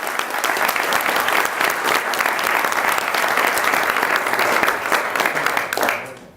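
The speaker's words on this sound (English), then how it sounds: "Let's give a big round of applause for that" At a civic climate-action presentation in Denver, an audience breaks into loud, full applause that holds steady for several seconds before tapering off abruptly at the end.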